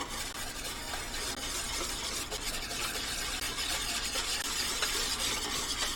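Whisking liquid in a pot of beef stew with vegetables, a steady close scraping and swishing with faint bubbling sizzle, continuous and alone.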